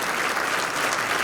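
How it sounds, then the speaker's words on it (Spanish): Conference audience applause for lecturer Claudio Fantini at the 2019 Ushuaia seminar: a thick, even wash of many hands clapping at full strength, with no breaks and no voices. "El aplauso para Claudio"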